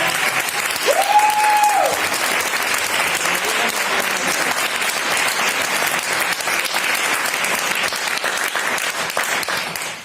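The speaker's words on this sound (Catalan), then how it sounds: "Les fruites, fem un aplaudiment a les fruites!" A crowd gives loud, sustained applause for a band at a reunion concert, dense clapping that fills the whole stretch close by, with a brief cheer or whistle near the start.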